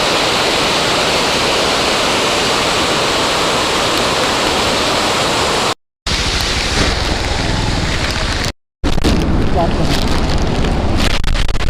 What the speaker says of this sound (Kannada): ಇದು ನೋಡಿ ಕಡಂಬಿ ಫಾಲ್ಸ್ ಅಂತ